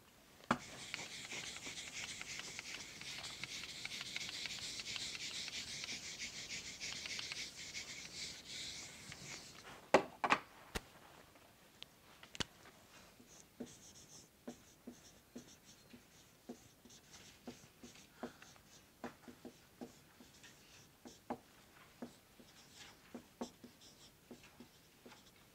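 A board is rubbed clean with steady broadband scrubbing for about ten seconds during a lecture on millets and health, followed by a series of sharp marker taps and short strokes of writing on the board, close and fairly clear, with no talking.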